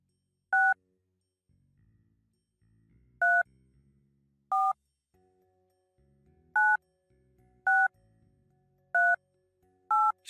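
A public street phone in the Mortadelo y Filemon video game is dialed, playing seven short, evenly spaced keypad tones over a quiet background with faint low sounds between the presses.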